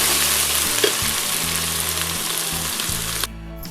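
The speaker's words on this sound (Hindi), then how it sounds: "ये बस इसको 1 मिनट के लिए हम फ्राई कर लेंगे" Ginger garlic paste fries in a pan for a red beans dish, giving a loud, dense, continuous sizzle and crackle that cuts out abruptly near the end.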